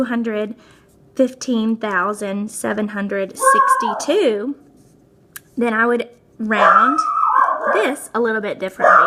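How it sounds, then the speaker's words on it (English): A dog whines and yips in the background in short, pitched bursts, mixed in with a person talking close by. "Sorry for my dog in the background."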